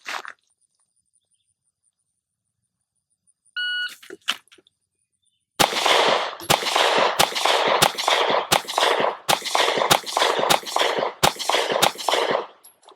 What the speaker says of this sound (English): I'm gonna shoot the test with the SiC P365